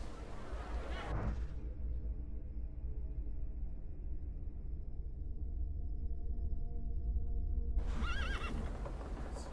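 A horse whinnies loudly at the start in the dark fantasy RPG The Thaumaturge, followed by a steady low rumble of ambient game sound and clopping hooves, with another bright neigh near the end.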